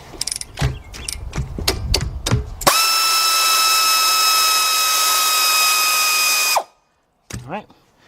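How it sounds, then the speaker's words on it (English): A 3/8-drive ratchet with a 14 mm shallow socket removes the bottom bolt on a Honda brake caliper: a burst of sharp clicks, then a long steady high whine, followed by a brief ratcheting rattle. "Let's take off our 14 millimeter bolt on the bottom."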